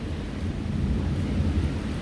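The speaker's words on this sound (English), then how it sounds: "We are nearing the eye of the thunderstorm" Low, rolling thunder rumbles through a severe thunderstorm, with rain and wind noise filling a steady, dense wash.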